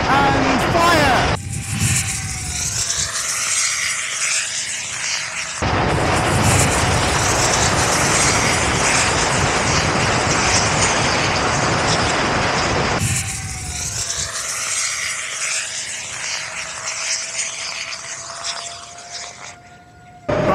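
An RC model of the SR-71 plane throttles up at launch, giving a loud, sustained engine roar that swells and holds for many seconds with a rising whine, then fades toward a thinner distant drone.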